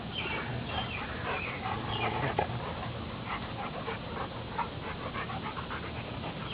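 A tired dog pants quickly and steadily up close after playing with another dog, breathy rhythmic huffs continuing throughout, with a faint whimper at one point.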